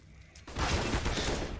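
Gunfire in a competitive shooter esports match, a brief burst of rapid shots breaking out after a quiet moment and continuing densely to the end.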